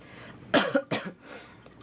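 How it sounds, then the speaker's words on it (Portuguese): Two sharp coughs in quick succession, close and loud, followed by a short breathy exhale. "se eu ficar tossindo aqui"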